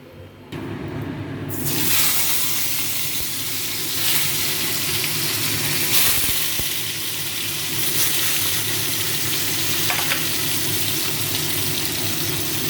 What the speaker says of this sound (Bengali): নুন তেল হলুদ দিয়ে ভেজে নিচ্ছি